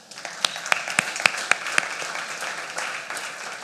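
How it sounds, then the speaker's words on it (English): An audience at a product launch event claps, with a burst of sharp individual claps up front that settles into a softer, sustained patter of applause. "Can we hear some applause, please?"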